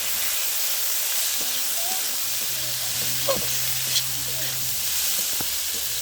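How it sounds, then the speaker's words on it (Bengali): Salt and turmeric fry in a pan as a steady sizzle with a hiss, broken by a few soft clicks of stirring, close and even over several seconds. "এটা পুরো ভাজা ভাজা করে নেব।"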